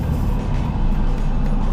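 Road traffic rolling past on a highway, a continuous loud low rumble of engines and tires with no clear gaps between vehicles, heard without speech.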